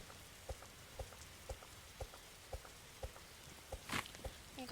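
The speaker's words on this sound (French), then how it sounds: "Je déteste la pluie dans ce jeu." Rain falls in the survival video game 99 Nights, a faint steady hiss with evenly spaced soft pattering ticks about twice a second, quiet and without speech.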